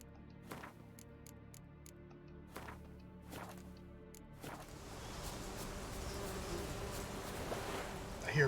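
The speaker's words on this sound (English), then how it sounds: "I hear bees, which means honeycombs." Bees buzz in a forest in The Witcher 3: Wild Hunt, a faint steady drone with sharp ticking clicks that gives way to a swelling bed of rushing wind-like noise.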